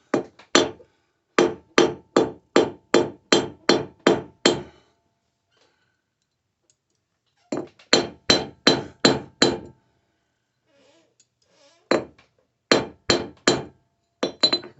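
Hand hammer forging a mokume gane billet of 14k white gold and sterling silver, bursts of sharp, evenly spaced metallic blows in quick runs of about four to eight strikes, separated by short pauses, close and clear with no talk.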